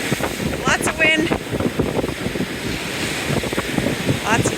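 Strong wind buffeting the microphone over crashing ocean waves on a beach under gray skies, a steady roar of surf and gusts throughout, with a voice speaking faintly in the mix.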